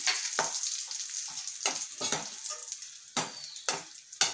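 Bitter gourd pieces fry in hot oil with a continuous crackling sizzle, punctuated by sharp spluttering pops at irregular intervals, close and moderately quiet.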